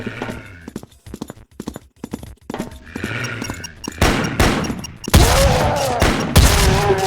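In the Doom video game a shotgun fires, loud blasts bursting in near the end after a stretch of scattered clicks and short game sounds.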